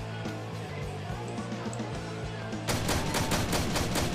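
Rapid repeated gunfire from a shotgun in a Minecraft-style first-person shooter game, a burst of sharp shots starting partway through over a low steady game background.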